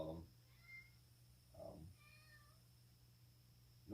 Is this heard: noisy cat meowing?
yes